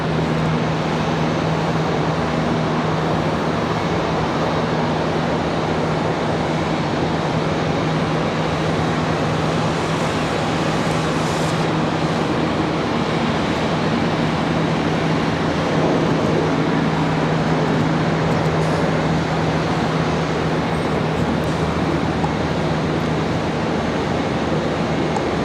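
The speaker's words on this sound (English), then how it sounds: "Southwest coming in from Chicago Midway." A Southwest airliner arriving from Chicago Midway at Charlotte Douglas airport gives a steady, broad engine roar with a low hum beneath it, sustained and moderately loud throughout.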